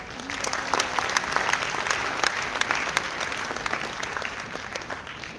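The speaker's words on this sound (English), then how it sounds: "A big round of applause." Audience applauding at an academic oration as the chief guest is welcomed with a bouquet, a steady dense clapping that fills the hall throughout, moderately loud and continuous.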